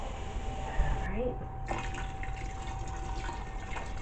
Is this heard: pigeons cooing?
no